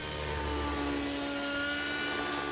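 Remote-controlled model helicopter in flight, a thin, high whining rotor and motor drone that holds steady, with pitch shifting slightly, at moderate distance.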